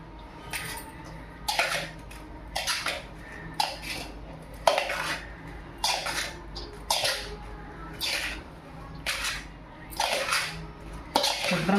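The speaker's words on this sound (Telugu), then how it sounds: "కాలుతుందండి, ముందర గరిటె పెట్టి కలుపుకోనండి" A ladle stirs a hot prasadam mixture in a metal pot, scraping and clanking in steady bursts about once a second, close and fairly loud with no talk.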